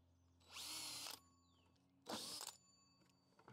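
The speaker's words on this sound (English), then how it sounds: "that drill had a little bit of a hard time going through here at first" A power drill whines at high speed drilling through a bucket in two bursts, the first about half a second long, the second shorter, with a quiet pause between them.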